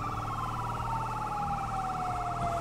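A wailing ambulance siren in GTA 5, loud and steady, with engine rumble underneath as the vehicle drives along.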